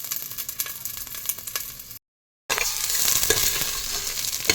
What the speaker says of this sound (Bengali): হালকা ভেজে নেব ঘি আর বাদামের সাথে।